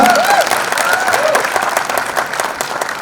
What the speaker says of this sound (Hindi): दोस्तों जोरदार तालियां।